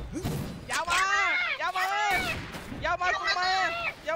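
Gunfire in the shooter game XSHOT, with a few sharp bursts of shots breaking through under lively, excited talk that dominates the scene.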